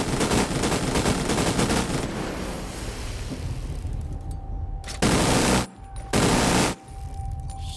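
Heavy gunfire in The Division 2: rapid, sustained automatic fire that fades for a moment before two loud, close bursts break out in quick succession.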